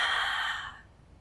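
A steady breath out during a Pilates upper-body strengthening exercise, a soft airy exhale that fades over about a second into quiet, heard alone without talk.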